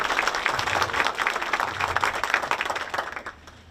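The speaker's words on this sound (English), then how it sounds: "give her a loud applause." A crowd at a hospital independence event in Nyeri, Kenya, breaks into loud applause, many hands clapping steadily with a few louder close claps, fading off in the final half second.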